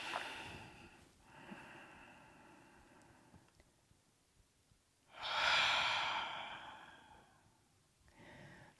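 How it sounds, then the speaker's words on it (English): A cleansing breath during a yoga session: soft, close breathing through the nose, then a long, full exhale like a heavy sigh, followed by the start of another breath, with no talking. "Cleansing breath when you're ready."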